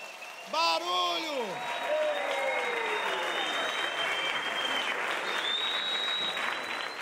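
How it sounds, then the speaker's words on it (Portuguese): A theater audience at Teatro Oficina applauds during a book launch, sustained crowd clapping with shouts and whistles rising over it, a loud cheer near the start. "um aplauso a esse patrimônio, a esse teatro, Zé Celso Martinez Correia"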